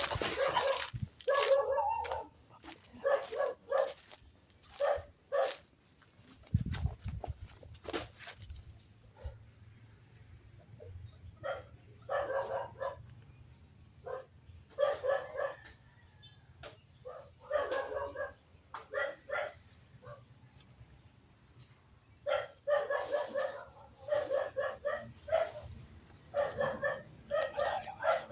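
Outside a fence, a dog barks in repeated bursts of sharp yaps and whimpers, separated by quiet gaps, fairly close and clear, with no talk over it.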